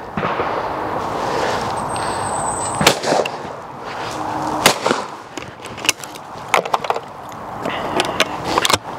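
A Yildiz Pro 20 bore shotgun fires at clay targets outdoors: two sharp, loud blasts ring out a couple of seconds apart, followed by quicker cracks and mechanical clicks.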